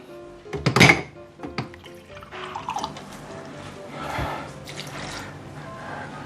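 Water trickles and drips into a container holding lemongrass for a pork chop marinade, with a few soft clunks and splashes, fairly close and moderately loud, then continues as a steady pour.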